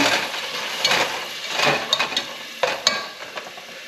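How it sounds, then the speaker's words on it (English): A utensil scrapes and stirs across the bottom of a hot pan while chicken adobo deglazes with its marinade, giving irregular scratchy strokes over a soft sizzle, close and fairly loud. "Scrape that bottom off."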